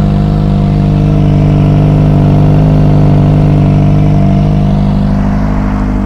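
A minimally modified non-ABS Kawasaki ZX25R motorcycle idles up close with its exhaust, a steady, smooth, even engine drone that holds loud and unchanging throughout, with no voices over it.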